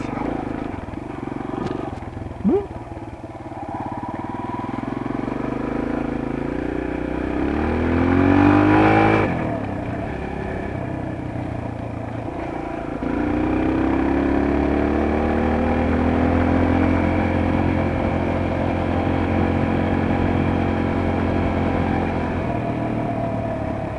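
A motorcycle engine runs steadily, rising in a loud rev midway and then settling back to a rumbling idle, close by with wind noise throughout.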